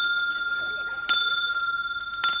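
A clock bell rings the New Year's Eve quarter chimes, with sustained ringing tones and two sharper bright strikes, alongside faint background murmur.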